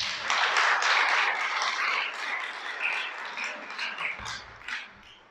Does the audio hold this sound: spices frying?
no